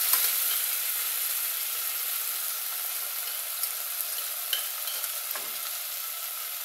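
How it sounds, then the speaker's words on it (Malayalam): Pressure-cooked onion sizzles in oil left from frying chicken, a loud, steady close-up hiss that runs throughout, with a few faint stirring clicks and no voices. "അത് നമ്മൾ ഈ എണ്ണയിൽ ഈ ചിക്കനൊക്കെ ഫ്രൈ ചെയ്ത എണ്ണയിൽ ചേർത്ത് കൊടുക്കുക"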